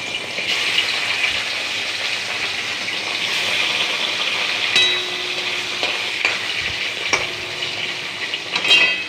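Fish frying in a pan, a steady close sizzle that fills the whole clip with a few louder crackles and utensil clicks, no talking.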